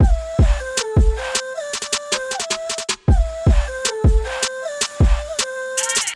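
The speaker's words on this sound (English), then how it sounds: "I have a voltage kit drum rack." An electronic drum kit from an Ableton voltage kit drum rack plays a punchy, repeating beat with deep kick hits, snappy snares and crisp hi-hats, loud and upfront with no talking.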